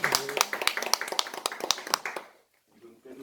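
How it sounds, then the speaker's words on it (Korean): An audience claps at the close of a political press conference, a burst of quick, close clapping that stops abruptly near the end, with people talking over it. "박수로 마무리하겠습니다"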